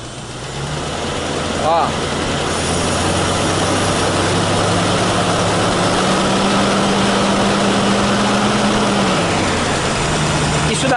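Ford Maverick V8 engine revved slowly from idle, a loud, rough, steady rumble whose pitch climbs gradually, holds higher for a few seconds, then drops back, with a brief voice near the start.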